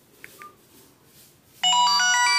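A phone alert sounds as an SMS verification code arrives: a loud, sustained multi-tone ringtone jingle starts suddenly after a quiet moment with a couple of faint small beeps before it.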